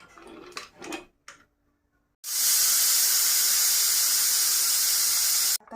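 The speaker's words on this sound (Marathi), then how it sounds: "आता कुकरची हवा गेलेली आहे" A pressure cooker of potato curry releases its steam: after a few soft knocks and a brief pause, a loud, steady, close hiss rushes out for about three and a half seconds, then cuts off abruptly.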